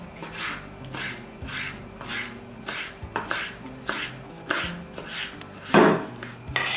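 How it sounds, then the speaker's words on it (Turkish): Red pepper being finely chopped with a knife on a board, a steady series of close, crisp taps with short scraping strokes, one heavier chop near the end, no voices. "kırmızı biberimizi doğruyoruz. Bunu da turşu gibi ince olarak doğrayacağız"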